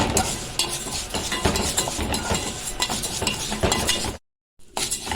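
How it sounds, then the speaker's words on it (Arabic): Orzo pasta fries in a pan on a stovetop while being stirred, giving a dense, close sizzle with scraping strokes that runs steadily, then cuts out briefly near the end before returning. "عشان خاطر انا موطيه عن البوتاجاز وايدي فيه عماله اقلب فيه بالشكل ده كده زي ما انتم شايفين اهو"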